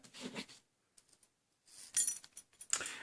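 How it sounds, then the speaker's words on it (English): Keys clink and jangle in a few quick metallic bursts as they slide onto a tamper-proof crimp key ring, with short quiet gaps between the rattles. "When you grab a piece, you simply slide in your keys and everything else inside of there."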